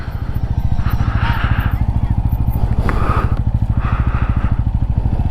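A motorcycle engine runs close by with a steady, rapid thumping pulse as it is ridden slowly near a temple in Bhopal. Faint speech sits under the engine noise.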